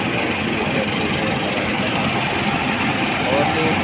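Heavy tractor engines drone loudly and steadily as they haul a harvester stuck deep in a swamp, a dense unbroken rumble with no pause.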